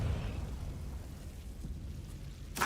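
A Confringo blasting spell explodes in Hogwarts Legacy, a deep rumbling boom that starts loud and decays over a couple of seconds, ending with a sharp burst of noise.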